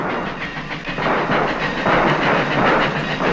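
A train runs on rails in a radio drama sound effect: a continuous rumbling roar with a steady clickety-clack rhythm and hiss. It is loud and alone, with no talking.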